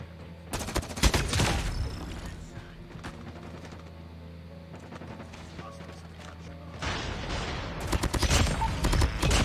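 Bursts of M16 and M4 rifle fire in a first-person shooter video game, loud rapid volleys at the start and again at the end, with a quieter stretch of game noise between.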